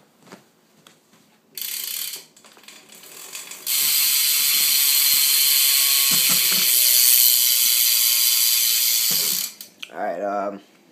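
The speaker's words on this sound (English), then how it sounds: "now I'll give you guys a sound check for the hub" Loud, continuous buzzing clicks from a BMX bike's rear hub ratchet as the wheel freewheels, sustained for several seconds after a couple of shorter bursts, then stopping.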